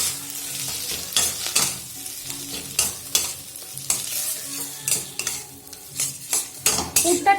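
Spices and boiled salted peas for a matar kachori filling fry in a pan while a spoon stirs and scrapes repeatedly, sharp metal clinks and sizzle bursts recurring every half second or so, close and with no talk.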